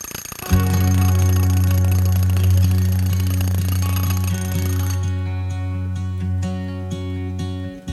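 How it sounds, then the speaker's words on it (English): A loud, steady mechanical pounding of a jackhammer breaking out concrete on a patio runs nearly nonstop, close by, with a harsh ringing drone, then shifts to rapid clattering impacts near the end. "the next step was to jackhammer out this concrete piece"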